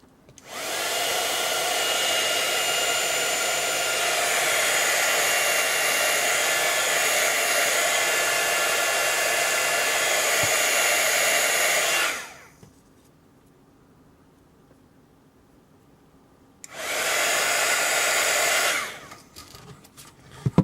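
A heat tool blows steadily on craft foam for a Valentine card, a loud continuous whoosh for about twelve seconds, then a brief pause and a second short blast of a couple of seconds.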